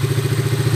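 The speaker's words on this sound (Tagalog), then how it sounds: "naikabit na po yung makina. Andarin na natin." A Suzuki Raider 150 motorcycle engine, freshly overhauled, runs in a steady, loud, close idle with a rhythmic low thrumming pulse and light mechanical clatter.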